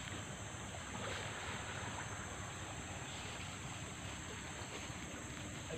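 A big river at the riverbank in Kalimantan, heard as a steady, close broadband rush of water mixed with wind buffeting the microphone, with no talking.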